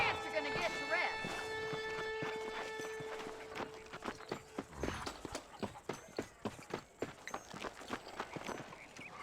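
Horse hooves clip-clopping in the video game Red Dead Redemption, a steady walking rhythm of close, hollow knocks that grows clearer after a sustained tonal hum fades, with a voice speaking over the start.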